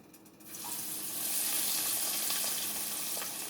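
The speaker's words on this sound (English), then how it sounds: "I'm going to go ahead and place it in the pan that is very hot" Almond-flour-coated pollock fillet frying in a very hot pan, a quiet start giving way to a steady, close, bright sizzle that holds loud through the end, with small crackles and pops.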